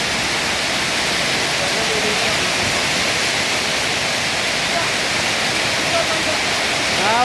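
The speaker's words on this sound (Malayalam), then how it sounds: "വെള്ളം മഴ മഴ മഴ ഇത്ര കാലമായിട്ട് ഇവിടെ വെള്ളം കയറില്ല" Heavy rain pours and floodwater rushes through Cheriparambu in a loud, unbroken roar that fills the whole scene, with people talking now and then beneath it.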